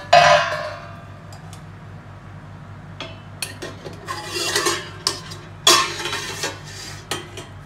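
A metal lid lifted off a pot of steamed fish in a home kitchen, giving a sharp clatter at the start, then scattered clinks and scraping of utensils against cookware, moderately close.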